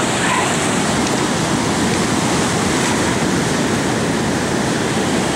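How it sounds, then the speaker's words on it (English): Moderate surf pounds the beach at Lincoln City, Oregon, a loud, continuous roar of breaking waves and rushing water, with wind buffeting the microphone throughout. "those waves would tumble you and twist you like a rag doll."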